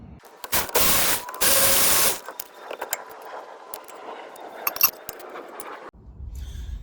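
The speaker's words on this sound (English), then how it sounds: "We're going to use the impact screwdriver to take those out" An impact screwdriver works loose the rear brake caliper bolts on a 2009 Honda Accord V6, with two long harsh bursts followed by scattered sharp metallic clinks and knocks in a garage.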